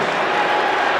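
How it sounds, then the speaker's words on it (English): A basketball crowd at the McDonald's All American high school game roars and applauds in a dense, steady wash of cheering, with no single voice standing out. "Listen to the crowd now"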